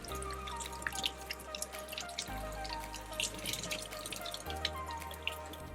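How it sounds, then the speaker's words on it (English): Tap water runs steadily through a glue-coated sponge held around the faucet, a close, continuous splashing and dripping stream with small bubbly pops, heard alone without voices. "Now just turn on the water and watch your glue bubbles form."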